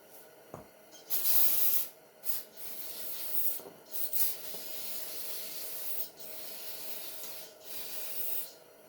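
Brake cleaner sprays onto car front-end parts on a widebody WRX wagon racecar in short hissing bursts, several separate blasts with pauses between them, close and fairly loud.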